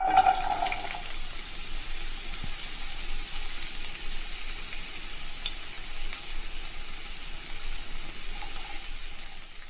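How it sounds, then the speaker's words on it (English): A continuous sizzling hiss, like food frying in a pan, holds steady at moderate volume with no talking. "That's my sizzle sound."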